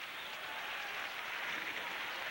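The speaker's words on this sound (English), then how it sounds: "Capital fans starting to clap." Hockey fans clapping inside the Capital Centre arena during a 1988 Whalers vs. Capitals game, a soft, distant wash of crowd applause with steady texture throughout.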